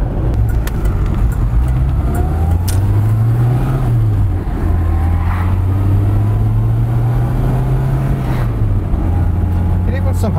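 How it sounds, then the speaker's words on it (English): Vintage Vauxhall in wonderful condition driving along, a steady engine drone with rising and falling transmission whine as it changes speed, while someone talks over it. "You've got the sort of transmission whine that almost harks back to the 1930s, but now nicely subdued"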